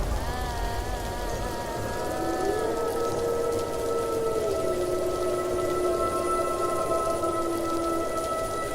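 Rain falls steadily in an animated cartoon about a Sundarban ghost tale, a continuous hiss running throughout, with sustained tones layered over it.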